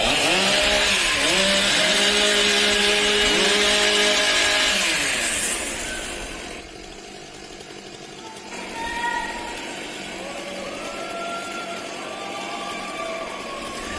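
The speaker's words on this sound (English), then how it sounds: "Warm up your saws." STIHL Timbersports racing chainsaws warm up at a U.S. pro championship, several saws revving loudly together in rising and falling bursts before dropping to a lower idle drone with scattered high whines.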